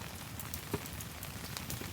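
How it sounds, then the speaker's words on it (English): Rain falls on a camping tarp through a rainstorm at a campsite, a soft close patter with scattered heavier drips hitting the surface and no voices. "And it's just been raining the entire time."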